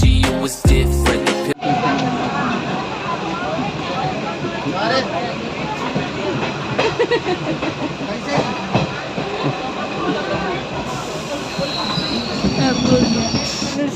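A train rolls past close by in a rural Indian village setting, a loud continuous rumble of wheels and carriages with squealing and clattering over the rails, preceded by a brief burst of music at the start.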